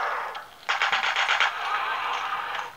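A woman firing a gun in Resistance: Burning Skies on PS Vita, a short rapid automatic burst of clattering shots at moderate distance, followed by a lingering noisy wash of game ambience, with no talking.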